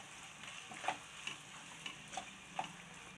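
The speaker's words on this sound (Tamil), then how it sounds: "இதையும் சேர்த்து நல்லா கிளறி விட்டுக்குங்க" Grated coconut stirred into a poha burfi mixture in a pan, a quiet bed of soft sizzling with a handful of light scraping clicks from the spoon at uneven intervals.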